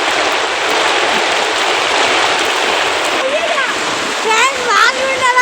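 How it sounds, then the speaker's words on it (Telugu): Heavy storm rain pours steadily around a house in a sudden cyclone, a dense, loud, unbroken roar, with voices breaking in briefly near the end. "వానైతే మామూలు రావట్లేదు ఫ్రెండ్స్."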